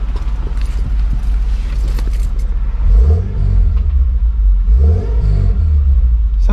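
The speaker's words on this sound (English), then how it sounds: "Or maybe I should give it a couple revs first." A car engine fitted with larger E85 fuel injectors idles roughly, then takes a couple of quick revs that swell and fall back, loud and close, with no voices over it.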